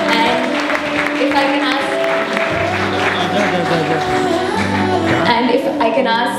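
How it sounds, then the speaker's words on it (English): Applause from an audience at an awards ceremony, continuous clapping that runs for several seconds under a loud sustained tone and some background voices. "So make a big round of applause."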